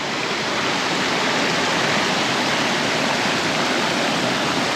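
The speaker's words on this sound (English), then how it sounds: "So this is the water crossing that you cross to get to Isabella Falls." Water rushes over a shallow, smooth concrete ford crossing near Isabella Falls in the Cooktown area, a loud, steady, unbroken roar with no voices.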